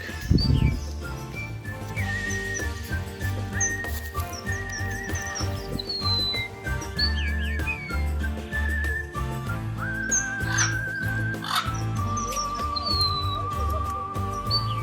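Parrots, among them a South American yellow parrot, give shrill whistles and chirps at Mayapur, scattered calls over a busy background.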